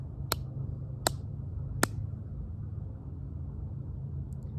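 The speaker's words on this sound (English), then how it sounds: "This is me clapping." Three slow, evenly spaced hand claps ring out sharply over a low background rumble, each one a crisp single smack followed by a pause.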